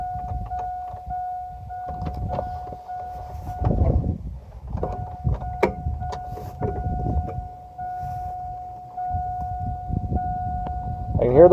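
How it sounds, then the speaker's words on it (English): Electric fuel pump on an old GMC farm truck that sat unused for three years, a steady high whine humming continuously under close talk and rustling, briefly dropping out midway. "I can hear the pump going."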